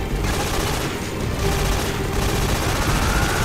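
Heavy automatic gunfire in the Metal Gear Solid 3: Snake Eater video game, a dense, loud, unbroken barrage of shots and blasts that fills the whole stretch.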